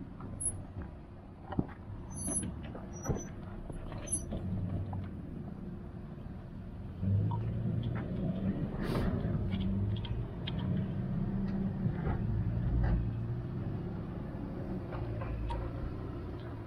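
A 4x4 off-road vehicle crawls along the rocky Hennops trail with one wheel lifted, its engine a low, steady rumble with a louder surge partway through, plus occasional clunks and knocks.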